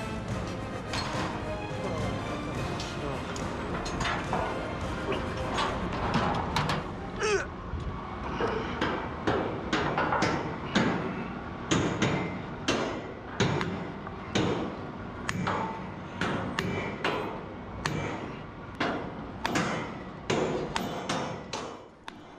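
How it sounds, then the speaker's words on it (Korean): Workers hammer steel pins into the mast sections of a tower crane being installed on an overseas construction site, a long run of sharp metallic blows in a steady rhythm, close and loud over a rumbling background. "그 다음 작업은 홈에 핀을 넣어 고정하는 망치질."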